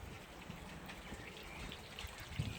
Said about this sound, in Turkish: Şurada bir çeşme var.